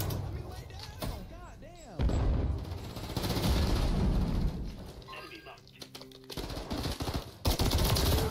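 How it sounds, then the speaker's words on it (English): Gunfire from the player's weapon in a first-person shooter game rings out in sharp, rapid bursts separated by short pauses, with game sounds and voices mixed underneath. "You cannot say this gun is not the best gun in the game."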